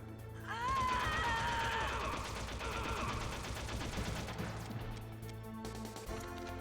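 Metal Gear Solid gameplay with a loud, dense burst of game gunfire and crashing impacts lasting several seconds, layered over a steady in-game music bed.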